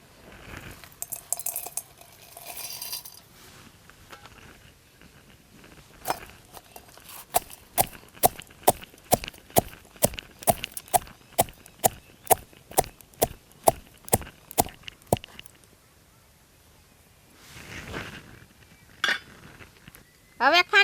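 Ingredients for a Kathiyawadi stuffed chili curry are pounded with a steady run of about twenty sharp, evenly spaced strikes, framed by looser clattering and scraping before and after.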